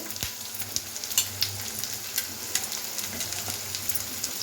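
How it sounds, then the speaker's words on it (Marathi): Capsicum and onion fry gently in a pan, a low, quiet sizzle with intermittent soft clicks and light taps of a spatula moving the vegetables around. "शिमला मिरचीला पण हलकासा आपण फ्राय करायची आहे आणि थोडं मस्त शिजवायचं आहे"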